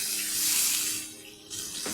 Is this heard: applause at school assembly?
no